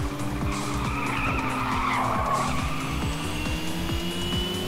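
Car drifting around corners in the Little Racers Street racing game, with a loud, continuous screech of skidding tires layered over a steady revving engine hum.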